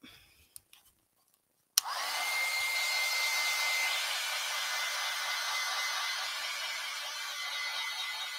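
A hair dryer drying an acrylic flower painting switches on after a few light taps and runs as a steady, close, loud rushing whir for several seconds.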